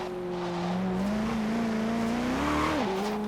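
A Koenigsegg Regera accelerating in Forza Horizon 3, its engine note climbing steadily in pitch with a brief dip near the end as it pulls hard, loud and continuous with no talk over it.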